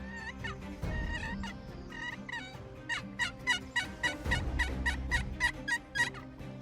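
A custom lid-cranked turkey call imitates a hen turkey seeking a mate in spring woods, producing rapid scratchy yelps and clucks in rhythmic bursts that quicken into a steady series of sharp, close notes.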